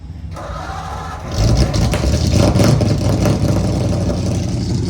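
A car engine turns over and fires up after a quiet moment, then settles into a loud, rough idle with brief revs, close to the listener.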